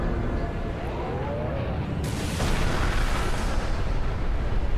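A loud, roaring explosion brings down Big Ben in a Skibidi Toilet animation, a dense rumble that jumps sharply in intensity midway and keeps churning to the end with no talk over it.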